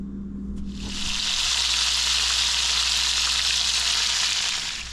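Ribs lowered into hot olive oil burst into a loud, steady, close sizzle that swells after the first second and holds without a break, with a low hum underneath.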